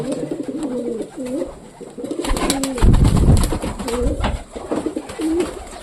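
Several pigeons cooing close by in low, throaty repeated calls, joined midway by a burst of fluttering wings and rustling.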